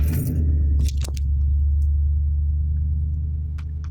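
A vehicle engine starts up while connected to a pocket OBD scanner reading live data, with a brief crank and keys jangling near the start before a steady, close idle rumble settles in.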